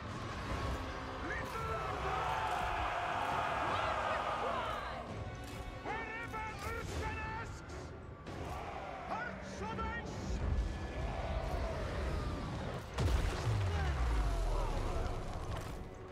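Gunfire and impacts hit units during a Total War: Warhammer 3 battle, with sharp cracks and crashing bursts scattered over a busy game soundscape of music and effects; a loud heavy blast lands near the end.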